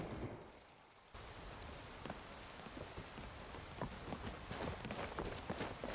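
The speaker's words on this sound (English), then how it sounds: "And it's raining again." Steady rain falls in Skyrim, played with the Nolvus modpack, a soft continuous hiss of drops on surfaces with faint pattering detail that starts after a brief quieter moment and carries on throughout.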